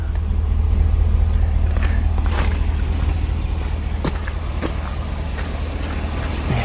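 A muddy truck rumbles through a wet, rutted woodland track full of mud holes, its engine a heavy, steady low drone under scattered splashes, knocks and rattles from the body, loud and close.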